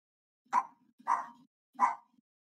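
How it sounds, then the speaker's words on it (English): A dog barks three times at even spacing, each bark short and fairly close, in an otherwise quiet room. "I hear a dog barking."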